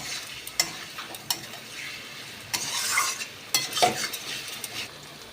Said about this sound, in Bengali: দেখো বন্ধুরা, মশলাটা কিন্তু আমার খুব ভালো করে কষা হচ্ছে।